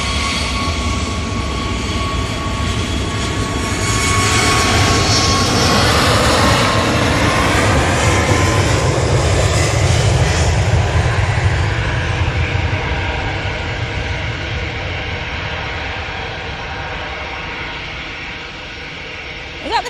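A TUI jet aircraft departs, its engine roar loud and sustained, swelling then slowly fading into the distance over about twenty seconds.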